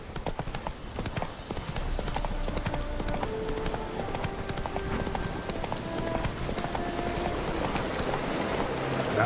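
Roach, a horse in The Witcher 3 video game, gallops with steady rapid hoofbeats over a continuous game soundtrack, the clatter close and constant throughout.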